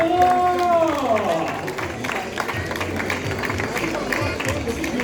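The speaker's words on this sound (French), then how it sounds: "Les applaudissements pour Abdelkarim Benzahra." Outdoor crowd applauds an elite male half marathon runner presented on a podium, steady clapping and crowd noise running under an announcer's amplified voice.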